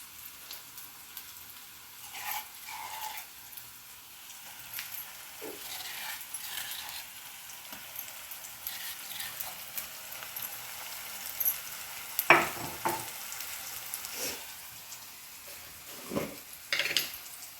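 Spiced masala paste of turmeric, chilli powder, ginger and coriander fries in a pan for bitter gourd curry, giving a soft steady sizzle with scattered stirring clicks and scrapes, no talking.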